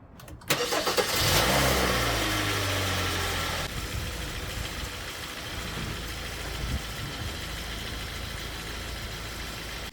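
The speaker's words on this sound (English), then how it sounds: "let it run for around 2 to 3 minutes just so that things warm up and circulate" A Kia Optima or Hyundai Sonata (2011–2020) engine starts with a short crank, then settles into a steady, even idle that runs on continuously, fairly loud and close, with no talk.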